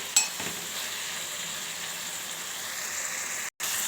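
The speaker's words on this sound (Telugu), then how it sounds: "ఇందులో ఇలానే కలుపుతూ ఉడికించుకోవాలి" Cauliflower gobi frying in a pan, a steady bright sizzle with a stirring scrape at the start, close and continuous, briefly cutting out near the end.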